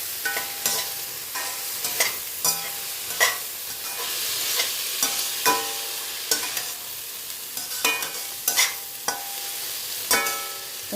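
Paneer and vegetables being stir-fried with dark soy sauce and vinegar, the spatula scraping and knocking against the pan in an irregular rhythm over a continuous close sizzle, with no voices.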